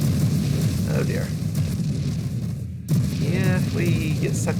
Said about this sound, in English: with those explosions going off, we're dead